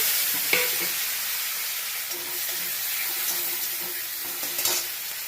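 Tomatoes and green chillies sizzle and fry in a pan, a steady hiss broken by a few stirring scrapes and clinks, close and moderately loud.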